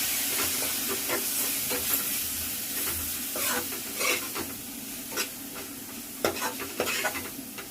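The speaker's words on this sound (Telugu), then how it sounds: "దీంట్లో నుంచి ఆయిల్ సపరేట్ అయ్యేదాకా కొంచెం ఫ్రై చేసుకున్నామండి" Chicken curry masala with coriander powder frying in oil in a pan, a continuous sizzle broken by repeated scraping stirs and clatters, close and fairly loud, no talking.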